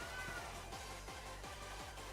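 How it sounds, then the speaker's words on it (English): A cat meows repeatedly at a door in a short run of rhythmic, fairly close meows that follow one another quickly, with no speech over them. "He's meowing at the door."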